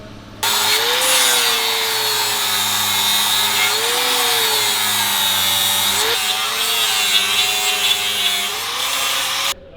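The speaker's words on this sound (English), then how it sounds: "Now I'm going to go ahead and take a sanding disc" A power tool's sanding disc grinds against a Chevy Express van's metal frame in a loud, continuous whine for several seconds, its pitch wavering slightly as pressure shifts.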